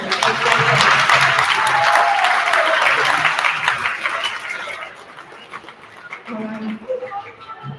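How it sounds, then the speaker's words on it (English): An audience at a school classics concert applauds the principal, dense clapping lasting several seconds before tapering off into scattered claps and faint murmuring voices. "So give her a big applause"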